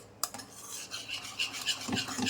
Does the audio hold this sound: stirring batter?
yes